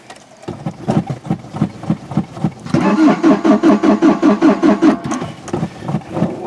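A 1984 Toyota SR5 pickup engine cranks on a cold start after sitting five years: a slow, loud, rhythmic starter chug that shifts into a faster, harsher cranking whirr, repeating steadily without catching.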